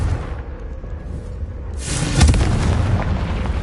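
Confringo spell explosion in the video game Hogwarts Legacy: a low rumbling boom bursts in partway through and rolls on loudly, with a rushing noisy tail, over quieter game ambience.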